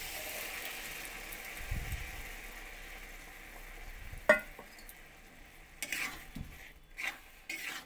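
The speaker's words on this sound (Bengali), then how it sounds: "মশলা আমার ভাজা হয়ে গেছে, এবার সেদ্ধ করা তড়কাটা দিয়ে দেবো।" Boiled lentils for a dhaba-style egg tarka land in a pan of fried spices, giving a soft sizzle with a few sharp clinks and scrapes of stirring, and no talking.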